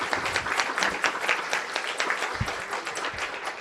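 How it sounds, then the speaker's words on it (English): An audience applauds the Ambassador at a live event, a steady wash of many hands clapping at moderate loudness for the whole stretch, with no talk over it. "A round of applause, please,"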